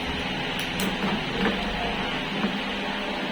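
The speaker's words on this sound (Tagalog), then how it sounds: "maingay po yung motor niya. Para may ugong." A steady electric clip fan motor hums continuously, a low constant drone with faint rattling, no voices present.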